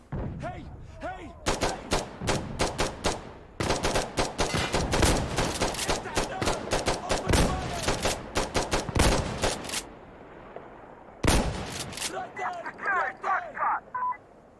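Rapid bursts of 12-gauge slug shotgun fire in Insurgency: Sandstorm, loud sharp blasts in dense clusters separated by brief pauses, with a player talking over the shooting.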